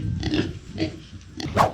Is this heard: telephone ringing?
no